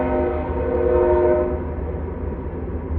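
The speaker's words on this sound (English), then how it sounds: "Shh, train." A passing train sounds a loud, sustained horn, its chord steady and close before fading slightly, with the low rumble of the rail cars continuing underneath.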